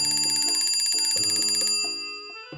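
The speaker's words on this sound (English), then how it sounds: "The loud ringing of an alarm clock jolted Discord out of his pleasantly chaotic dreams." A loud electronic alarm clock rings with a dense, repeating high-pitched trill for almost two seconds, then cuts off, leaving a few lower plucked tones ringing out with no voices.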